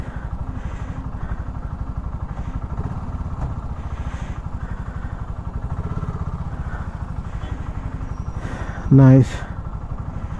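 A BSA Goldstar 650 motorcycle cruising on a road, its steady engine drone running throughout, close and even, with wind rumble, a brief horn-like tone near the end and a rider briefly speaking.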